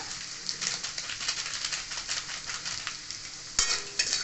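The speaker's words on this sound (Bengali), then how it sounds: "ভালো করে নেড়ে নিলাম" Turmeric and Kashmiri chili powder being stirred in a pan with oil for a chicken and potato pizza topping, a soft scraping and light sizzle with faint utensil clicks and a sharper knock near the end.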